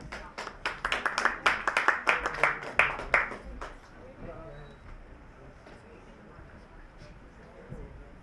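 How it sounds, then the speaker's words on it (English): An audience claps for a keynote speaker on agentic AI at a Davos conference: a bright burst of applause for about three and a half seconds, then it fades into a quiet room with faint murmurs. "Let's give him a round of applause."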